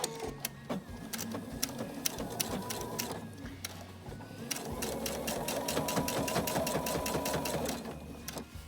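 A sewing machine stitches a placket in a long steady run, its motor hum and rapid needle clatter continuous and close, with brief pauses and speed changes along the seam.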